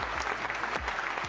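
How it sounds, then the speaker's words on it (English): Applause sound effect plays on a live stream, a short burst of steady clapping heard alone at moderate loudness. "Applause for that."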